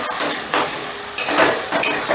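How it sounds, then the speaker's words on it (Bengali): Cashew paste being stirred into masala in a pan gives repeated scraping, sizzling bursts from a spoon moving through the thick mixture, close and fairly loud. "এবারে কিন্তু কন্টিনিউ নাড়তে হবে, যেহেতু কাজু বাদাম দেওয়া আছে তলায় কিন্তু লেগে যাওয়ার একটা টেন্ডেন্সি আছে"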